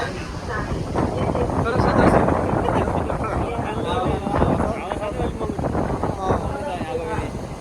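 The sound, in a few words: wind blowing outdoors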